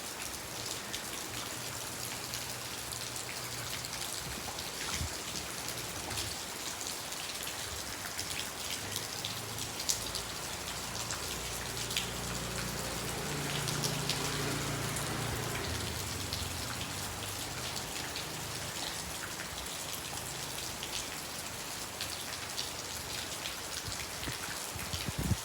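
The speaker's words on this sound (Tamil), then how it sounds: "நம்ம வெளியில் மழை விட்டுதுன்னு வந்தால் 5 நிமிஷம் மழை மறுபடியும் பிடிச்சிக்கிச்சு." Steady rain falls outside, a dense, even hiss of drops on surfaces that swells slightly midway and stays constant throughout with no voices.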